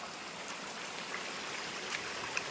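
A stream rushes strongly near Khandapada in Nayagarh, Odisha, as a constant broadband churn of flowing water, close and steady, with brief splashes near the end and no voices.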